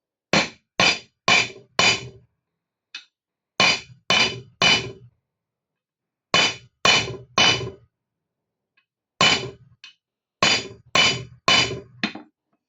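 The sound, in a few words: hammering a metal pin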